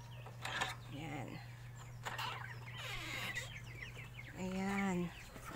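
Broiler chickens cluck and murmur nearby inside their housing over a steady low hum, with one louder, drawn-out squawk near the end.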